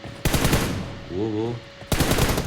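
Mobile shooter video game match, team deathmatch one-versus-one, with loud bursts of rapid automatic gunfire at the start and end, separated by a brief lull holding a rising tonal sound.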